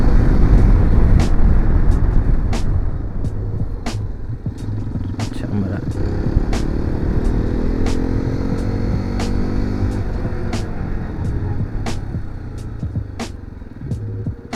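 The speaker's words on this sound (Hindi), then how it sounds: "चलो एक और बार ट्राई करते हैं इमरजेंसी ब्रेकिंग." A Hero XPulse 210 motorcycle engine throbs steadily during emergency braking practice on the road, with a continuous loud low drone and a faint whine that shifts as the bike slows.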